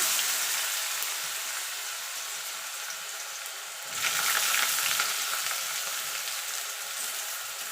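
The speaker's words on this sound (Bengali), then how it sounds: "আলুটাকে দিয়ে একটু ভাজা ভাজা করে নেব" Potatoes and bitter gourd fry in a pan with a steady sizzle, growing louder and brighter about halfway through as the pieces are stirred, with no voices.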